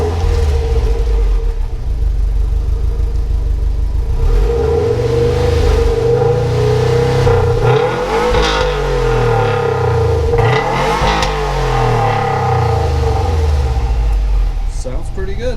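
A 2019 Subaru WRX STI idles with a deep exhaust drone, then gets several revs that swell and fall back, loud and close, with an engine rumble underneath throughout.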